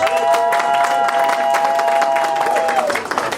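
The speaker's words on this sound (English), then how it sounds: "Please give him an applause." An audience at a formal gathering claps steadily for an honoured guest, a dense, loud wash of applause with a sustained tone ringing through it, fading near the end.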